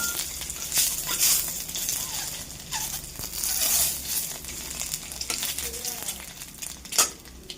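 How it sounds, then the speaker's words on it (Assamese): An egg fries with a steady sizzle in a wok, broken by occasional scrapes and clatter of a utensil, close by and fairly quiet. "এয়া এটা কণী ভাজি আছোঁ মাৰ কাৰণে"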